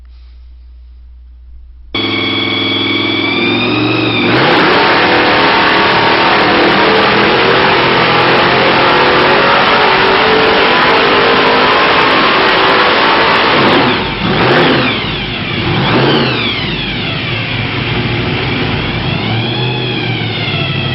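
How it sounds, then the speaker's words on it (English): A small block Ford V8 with a roots supercharger starts up and idles with a heavy rumble and supercharger whine, then revs sharply several times, loud and close. "This video is of a small block Ford engine with a roots blower mounted on top of it."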